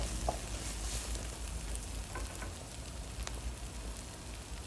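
Pounded chili and garlic stir-fry in oil in a pan, making a soft, even sizzle and crackle with occasional light scraping, heard close but faint, with no one speaking.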